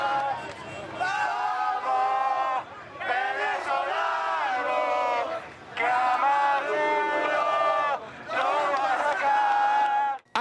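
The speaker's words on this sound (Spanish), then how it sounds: "Los ciudadanos apoyaron a los estudiantes con aplausos y gritos." Citizens along a student march in Venezuela shout and cheer in rhythmic, chant-like bursts, a loud crowd rising and breaking off in several waves.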